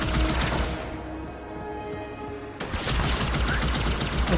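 Rapid gunfire crackles in Halo, dense bursts of loud, close shots that thin out briefly in the middle before a heavy barrage resumes, with no voices over it.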